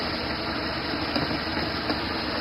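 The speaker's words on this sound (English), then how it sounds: "I'm back. I'm just idling. I don't hear any stalls or jerks or any of that." A car engine idles after a change to new spark plug wires, a steady, even rumble with no stumbles, close and continuous with no voices.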